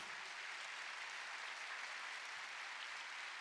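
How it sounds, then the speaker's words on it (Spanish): A church congregation applauds during a Sunday morning service, a continuous, even roar of many hands clapping, fairly distant and soft, with no voices over it. "¿Qué tal si le da el mejor aplauso al Señor?"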